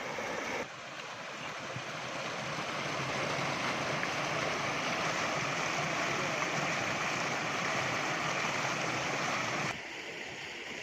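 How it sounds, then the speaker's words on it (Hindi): Water from a village motor pump in Noinke Sandhuan, Gujranwala gushes out in a loud, steady rushing torrent close by, holding constant for several seconds with no talk. "फिर ये पानी जो पीछे बह रहा है वो दिखाएंगे"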